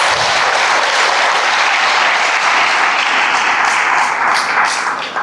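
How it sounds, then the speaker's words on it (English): An audience at a graduation ceremony gives the graduating class a loud, sustained round of applause, a dense wash of clapping that holds steady throughout. "A round of applause to the graduating class."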